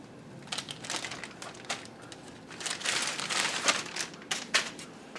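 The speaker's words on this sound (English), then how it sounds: "So we'll go ahead and unpackage this where you can take it out and put it on." Plastic packaging around a set of Jeep Wrangler JL window deflectors crinkles and crackles as it is opened and handled, with bursts of rustling coming in uneven clusters, close by and fairly loud, with no talking.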